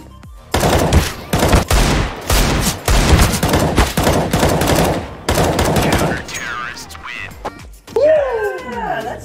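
Rapid pistol shots go off close and loud in a CS:GO match, a dense run of sharp cracks lasting several seconds before trailing off into scattered game effects.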